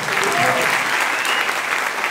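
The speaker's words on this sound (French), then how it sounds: "Remarquez qu'il n'y a qu'une seule personne qui n'applaudit pas" A room full of audience members clapping together, dense and loud, sustained evenly for a couple of seconds.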